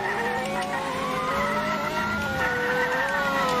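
A fast car in the Car Crash Simulator video game races along with a steady engine drone and rising, whining tones like tire squeal, loud and close throughout with no talk.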